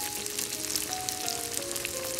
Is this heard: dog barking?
no